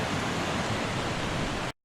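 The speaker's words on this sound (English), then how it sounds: "you can already see the spray of the waterfall. Rocky Brook Falls." Rocky Brook Falls in Washington roars as a dense, constant rush of falling water, loud and close, then cuts off abruptly.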